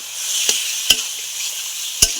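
Washed chicken pieces go into spiced masala whose oil has separated, frying with a steady, close hiss broken by three sharp clacks of a stirring spoon against the pan.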